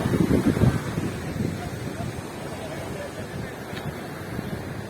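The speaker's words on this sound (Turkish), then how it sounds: "Burası şelalenin aktığı üst kesim." Tortum waterfall in Turkey, heard at its upper section, rushes as a steady broadband roar that is close and fairly loud, with wind buffeting the microphone at the start.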